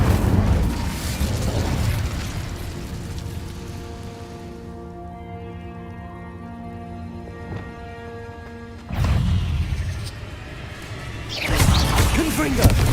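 Incendio fire spell in Hogwarts Legacy, a loud whooshing, roaring burst at the start that fades into a sustained musical tone, followed by two more heavy bursts later, with a voice calling out spells.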